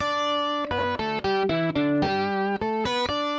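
An electric guitar plays a quick melodic phrase through a POG-style octave pedal, each note layered with a lower copy, thick and up close, without talk.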